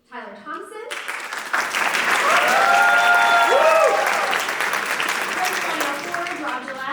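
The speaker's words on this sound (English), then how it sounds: "let's just cheer really loudly for them" An audience at an All County Band concert breaks into loud, sustained applause and cheering for the band directors, with a voice speaking at the start and end over the clapping.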